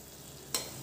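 Besan (gram flour) stirred and sautéed in a pan: a short, quiet lead-in, then a sudden burst of close sizzling and scraping that holds steady to the end.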